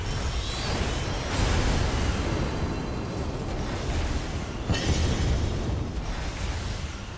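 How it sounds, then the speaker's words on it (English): Fireworks burst from a character's hands in Final Fantasy XIV, a dense roar of crackling, booming explosions with whooshes, sustained and loud, swelling sharply near the start and again midway. "Guy has fireworks for hands."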